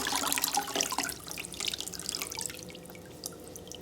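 Water runs and splashes steadily from a tap while a chicken is rinsed during a necropsy, a close, continuous hiss and patter with small drips, no talking.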